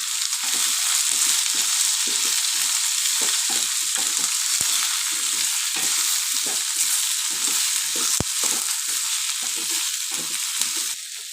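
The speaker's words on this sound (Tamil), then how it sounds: "அந்த கப்புலேயே ஒரு 1/4 பாகத்துக்கு உளுத்தம்பருப்பு, அரை பாகம் கடலைப்பருப்பு இதெல்லாம் போட்டு நல்லா வதக்கலாம்" Urad dal, chana dal and toor dal fry in a pan, crackling and sizzling steadily with repeated stirring scrapes throughout, with no voices.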